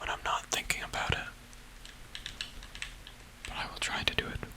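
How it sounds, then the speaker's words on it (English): Hard presses on a computer keyboard produce bursts of sharp, close clicks at the start and end, with a quieter gap between, under soft whispering. "I'm trying to press my keyboard down harder than I usually would"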